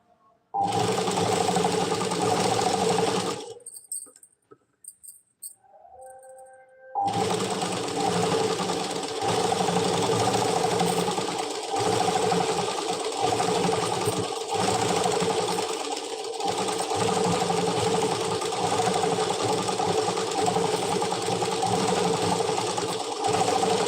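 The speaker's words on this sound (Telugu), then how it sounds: "స్టిచ్చింగ్ చేసుకుంటూ వెళ్ళాలి" A sewing machine stitches canvas into the hem of a Punjabi dress pyjama, running as a loud, close, steady whir that stops for a few seconds early on and then runs on continuously.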